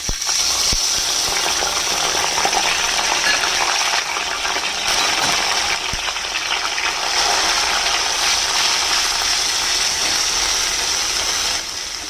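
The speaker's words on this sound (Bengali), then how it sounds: "একটুখানি পোস্তটাকে ফ্রাই করে নেব যাতে কাঁচা পোস্তর গন্ধটা চলে যায়" Poppy seed paste with mustard seeds and slit green chillies frying in a pan, a steady bright sizzle and hiss that holds throughout, close up with occasional faint scrapes and no talk.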